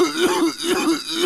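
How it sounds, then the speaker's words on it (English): A person's harsh throat-clearing cough in a radio advert from the GTA San Andreas video game, three or four rough, rhythmic hacking bursts close to the microphone. "Sounds like you got a nasty cough."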